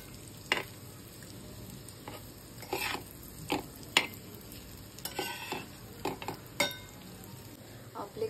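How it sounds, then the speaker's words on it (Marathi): Hara bhara kebabs, just flipped, sizzle in a pan under a low, steady fry, broken by repeated close scrapes and taps of a spatula against the pan. "कबाब आपले एक साइडून छान असे भाजले गेले आहेत."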